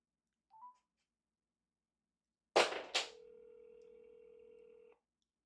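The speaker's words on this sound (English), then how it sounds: "I'm gonna call the number right now" A telephone number being dialed. A short electronic beep comes first, then after a pause two sharp clicks, followed by a steady tone that holds for about two seconds before cutting off. The sound is quiet, with no voices.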